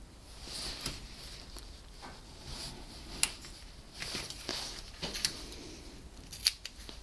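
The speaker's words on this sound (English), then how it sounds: "I'm actually going to cut it away instead of tearing it away this time." Scissors snip away a paper segment while a party favor basket is being crafted, a series of close, sharp cuts spaced irregularly over several seconds, quiet background and no talk.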